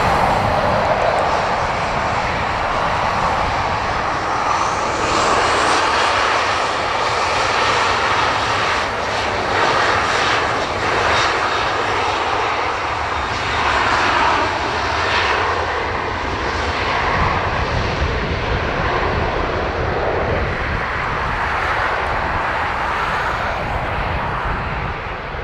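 A Ryanair jet airliner takes off from runway 10 right at Dublin Airport, its engines giving a loud, sustained roar that holds strong for the whole stretch.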